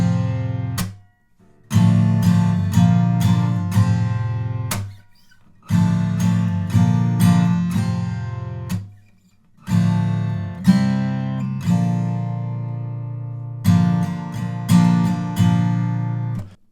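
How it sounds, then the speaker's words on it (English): An acoustic guitar strums open chord shapes for the first line of a song, played in loud ringing bursts separated by short pauses, with no voice over the playing. "So an open chord variation of the first line of chords anyway would sound like this."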